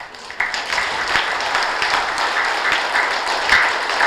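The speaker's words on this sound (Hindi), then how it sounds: "तो अपने लिए कितनी ताली बजाना चाहिए" An audience at a spiritual talk claps together in a full, close round of applause, with some individual claps standing out, sustained across the clip.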